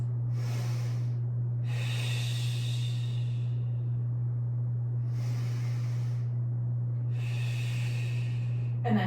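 Deep, slow breaths during an advanced Pilates hold, two long airy inhale-exhale cycles heard close up over a constant low electrical hum, with no talking.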